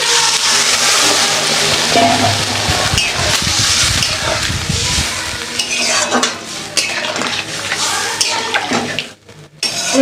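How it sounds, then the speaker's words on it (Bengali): Water poured into a pan of spice paste that has been frying, giving a loud, steady rush and sizzle with scraping stirring and clinks of a metal utensil against the pot, easing off near the end. "এবার আমি জল দিয়ে দিচ্ছি"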